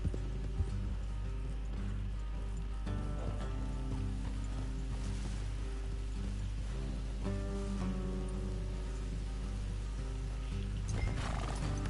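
Horse sounds from the video game Red Dead Redemption 2, with occasional whinnies and hoof clip-clops over a constant low hum and faint mechanical clicking.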